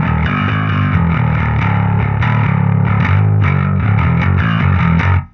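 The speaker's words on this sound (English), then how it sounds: "You want to have that growl in the bass." A loud, heavily distorted bass guitar growls through a riff of rhythmic notes, playing alone before cutting off abruptly at the end.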